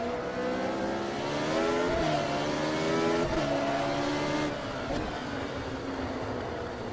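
A race car from the 1975 U.S. Grand Prix in the Automobilista racing game, its engine revving up and down in loud, close whining sweeps as gears change through a lap.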